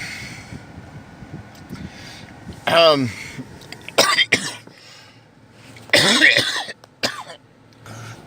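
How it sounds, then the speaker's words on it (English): Several harsh, forceful coughs in quick bursts, close by, with quieter breathing and throat noises between them. "I had a little coughing fit there."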